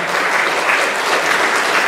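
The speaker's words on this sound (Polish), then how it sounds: "wielkie brawa dla pana Grzegorza." Dense, steady applause from a crowd, loud and sustained throughout with no pauses.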